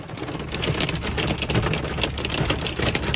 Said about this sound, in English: Alright, it's really starting to hail now.